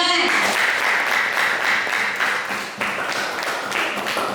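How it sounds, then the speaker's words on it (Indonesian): A classroom full of people claps together in a steady burst of applause, with a voice heard briefly at the start. "Betul sekali, tepuk tangan."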